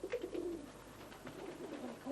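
Tippler pigeons in a loft give soft, repeated throaty coos, close but faint, several calls overlapping in a quiet indoor space with no voices.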